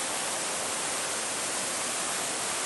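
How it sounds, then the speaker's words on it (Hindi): Alaknanda river rushing past the Badrinath temple area in the mountains, a steady, dense roar of flowing water filling the whole clip without any pause or change. "इधर मेरे अलकनंदा नदी बह रही है, आवाज़ आ रही होगी आपको, साउंड सुनाई दे रहा होगा उसका"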